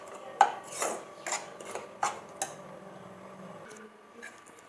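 Utensil scraping and stirring wheat flour as it fries in a pan for halwa, with a series of distinct close scrapes and taps against the metal in a quiet kitchen.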